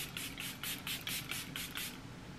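A fine mist of Charlotte Tilbury setting spray fires in a quick series of short bursts, about eight pumps in steady rhythm, soft and close.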